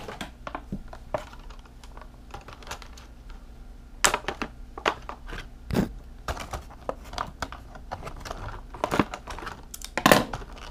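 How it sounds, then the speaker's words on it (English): Scissors cut through plastic toy packaging for Toy Story 4 toys, giving a run of sharp crinkling snips and tearing rustles that come in irregular bursts, close and fairly loud, with no voices. "Scissors."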